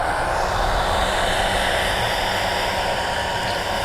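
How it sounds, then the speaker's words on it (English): A hair dryer on low blowing heat onto a car tail light overlay, a steady, loud whooshing hiss with a motor whine, running unbroken throughout. "I have a hair dryer because I'm not making money over here"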